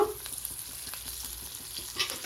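Coriander masala sautés in a pan for crab soup, a soft continuous sizzle with faint scraping stir strokes, close and steady, no voices.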